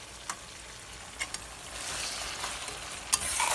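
Sausage sizzles in a pan over rising heat for spaghetti, a steady hiss with a few sharp spits and pops, fairly quiet and close, no talk.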